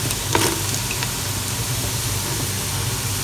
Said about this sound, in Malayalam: വഴറ്റാൻ വെച്ച ഉള്ളില്ലേ ചോറിന് പാത്രത്തിൽ, അതിതാ ഒരു പകുതിയോളം വഴന്ന് വന്നിട്ടുണ്ട്.